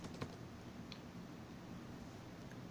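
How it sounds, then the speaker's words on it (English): Keys tapped on a computer keyboard while entering text into a Notepad window, a short quiet burst of soft clicks at the start fading into a faint, steady background with an occasional isolated click. "Type something"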